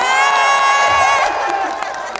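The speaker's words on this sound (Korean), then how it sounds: "이쁘다 생각하시는 분들만 박수 박수 한번 주세요." A festival crowd at a concert in Haenam, South Korea cheers and whoops loudly for a singer, with high excited shouts that gradually fade.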